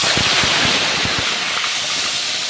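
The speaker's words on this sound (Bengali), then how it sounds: "আর এখন কড়াইতে তেল দিয়ে দিয়েছি, সাদা তেল। তেলটা গরম হয়ে গেছে। ম্যারিনেট করা চিকেনটা আমি দিয়ে দেবো।" Marinated chicken hits hot white oil in a wok, setting off a loud, close, sustained sizzle with a few sharp spits and pops near the start.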